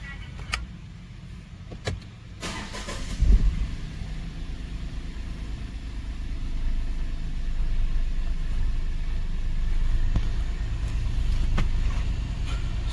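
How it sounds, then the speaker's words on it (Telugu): A Tata car, an Altroz, Tiago, Nexon or Tigor, starts up after its ignition coil is replaced with NGK parts: a few clicks and a brief starter crank, then a steady low idle rumble close by. "వెహికల్ స్టార్ట్ చేస్తున్నాను."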